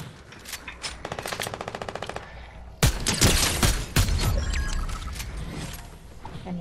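Fortnite gunfire starts with a fast, even burst of automatic shots. Heavier, louder booming blasts and scattered shots follow against a noisy background, with no talk.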